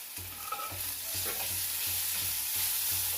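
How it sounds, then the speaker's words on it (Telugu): Curry leaves and coriander sizzling in hot oil in a pan for sago upma, a steady crackling fizz with soft rhythmic stirring scrapes, close and unaccompanied. "కరివేపాకు, కొత్తిమీర వేస్తున్నానండి."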